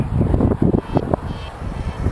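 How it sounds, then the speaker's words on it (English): Gusty outdoor wind buffeting the microphone in uneven low rumbling bursts, loud and close, with no talking. "Sorry if you hear the wind."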